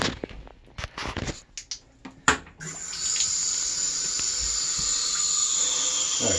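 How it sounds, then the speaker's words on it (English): Water runs steadily from a tap into a clogged sink with an accordion P-trap, draining slowly, a constant hissing flow after a few clunks and knocks at the start. "so you get slow draining water"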